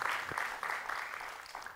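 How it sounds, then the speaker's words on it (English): Applause from an audience at a finance graduate gathering, a moderately distant, steady patter of clapping that holds evenly and tapers slightly at the end. "Please give him a big round of applause."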